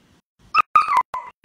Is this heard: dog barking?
yes